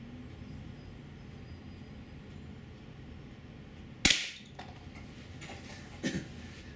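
A GAMO P-900 IGT .177 gas piston air pistol fires a sharp, loud shot that decays briefly, followed two seconds later by a second, softer crack over a quiet background.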